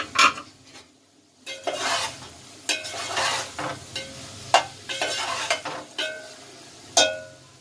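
An okra curry with a little dried mint sizzles in a pot while a spoon stirs and scrapes it in irregular bursts, with short pauses and clinks against the pot. The sound is close, with no talking.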